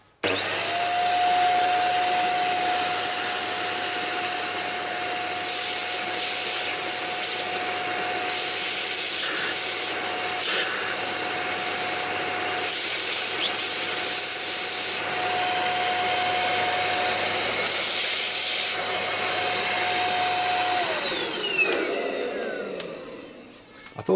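A vacuum cleaner sucks sand out of the front motors of a Bugs3 RC car, a loud steady whining roar that runs for over twenty seconds before winding down, with no talking.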